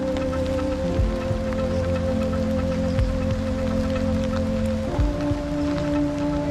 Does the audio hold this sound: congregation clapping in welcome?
no